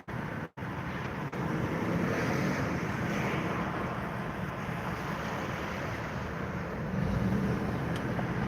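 Wind outdoors near the ocean, a dense, continuous roar of gusts buffeting the microphone with surf-like rushing, steady and loud throughout after a brief dip at the start.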